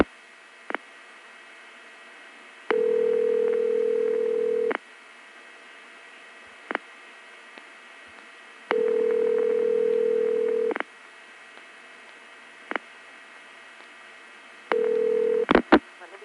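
A 1970s long distance telephone call: steady tones sound in three long stretches, separated by short clicks and brief pulses of dialing across a faint line hiss, ending in a jumble of clicks.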